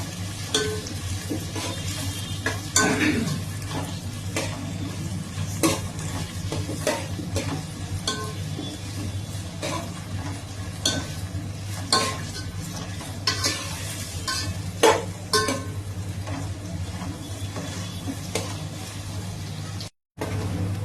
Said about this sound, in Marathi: आता हे ब्राऊन होईपर्यंत आपल्याला कांदा जाळायचा पण नाही, ब्राऊन करायचा पूर्ण कांदा.